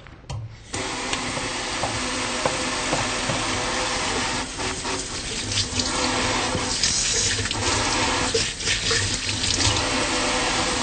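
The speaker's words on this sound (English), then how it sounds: "I'm going to take a minute to wash my hands." Running tap water pours steadily into a sink while hands are washed, a loud continuous rush lasting about ten seconds with slight splashing changes as the hands move under the stream, with no speech.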